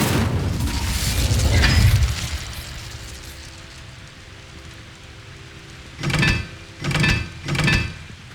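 Incendio fire spells in Hogwarts Legacy burst out as a rushing, crackling whoosh near the start, then three short, punchy fiery blasts in quick succession, loud against a quiet game ambience.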